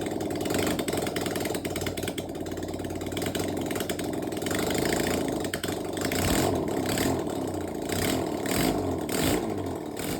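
A Kawasaki Z550GT motorcycle engine, an abandoned barn find, runs close by with a steady, slightly clattery idle and a few blips of revving, alone without talk.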